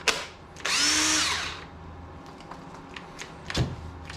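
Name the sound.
corded Harbor Freight power drill running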